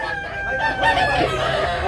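Roosters crow and cluck at a crowded chicken market in Tabunok, Cebu, a strained drawn-out crow rising over the steady hubbub of the stalls.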